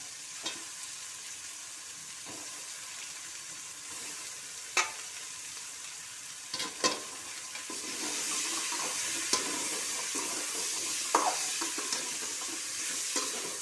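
Eggplant, radish and carrot sautéed in a pan for mixed vegetable sambar, with a soft continuous sizzle and occasional scraping stirs, quiet and close, with the frying growing a little louder toward the end.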